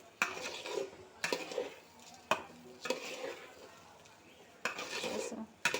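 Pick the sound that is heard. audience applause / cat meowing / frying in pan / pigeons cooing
frying in pan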